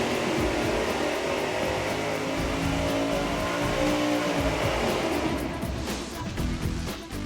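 A 1,000 hp engine runs on a dyno fitted with Flowmaster mufflers, a loud, steady droning roar held at high revs that eases slightly near the end.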